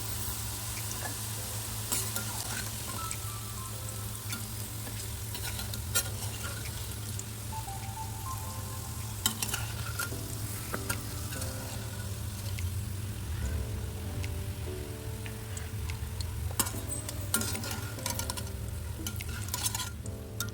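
Bitter gourd pieces frying in a pan, a soft continuous sizzle with a low steady hum from the stove and occasional faint clinks and scrapes, quiet and close.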